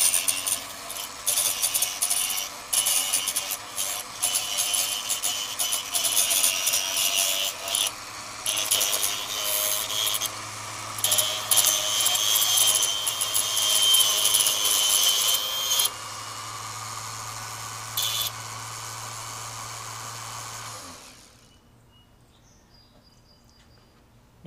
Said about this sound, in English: And when we trim, we simply just go straight across the board.